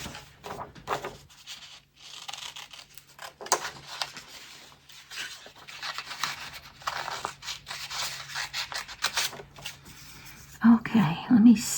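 Scissors cut out a paper butterfly at a craft table, giving a run of irregular snipping and rustling paper sounds, close and fairly quiet, with soft handling noises between cuts.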